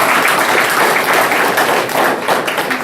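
At a book presentation, a roomful of people claps loudly and steadily, dense overlapping palms filling the space with no voice over it and only a slight dip late on.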